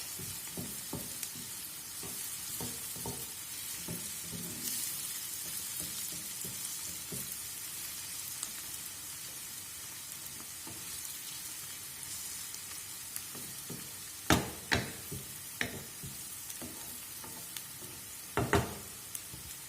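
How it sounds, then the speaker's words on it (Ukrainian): Onions and mushrooms frying in a pan, a soft, steady sizzle with light stirring scrapes early on and a few sharper clinks of a utensil against the pan later. "Ще трошки цибулька і вже вона буде протушена."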